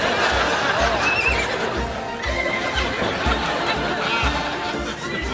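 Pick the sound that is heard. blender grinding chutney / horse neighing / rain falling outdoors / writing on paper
horse neighing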